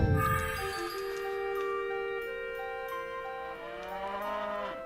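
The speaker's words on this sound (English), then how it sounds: "Cow says moo." A cow in the video game Blue Dragon lets out one long, loud, close moo that sustains for several seconds without speech.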